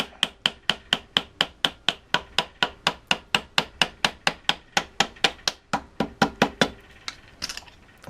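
A rubber mallet strikes a car's front-end spindle about thirty times in a fast, even rhythm, each blow a sharp, close thud, the strokes turning ragged near the end as the part knocks free.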